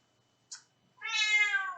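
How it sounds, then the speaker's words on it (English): A pet cat lets out a short chirp, then a longer, clear, drawn-out meow close by in a quiet early-morning room. "I'm sorry if you can hear my cat."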